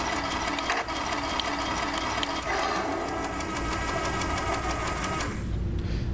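Engine sound effect from a toy airsoft Tiger 1 tank, a continuous rattling, knocking drone heard up close without a break, ending in a brief tail where the sound cuts off.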